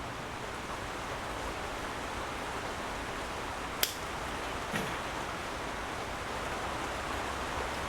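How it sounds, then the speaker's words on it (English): Heavy rain pours down in a steady, dense hiss that fills the whole scene, broken only by a sharp click and a faint knock partway through. "A lot of rain coming down."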